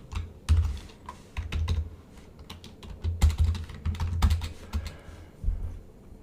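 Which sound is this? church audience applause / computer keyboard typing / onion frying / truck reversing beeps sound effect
computer keyboard typing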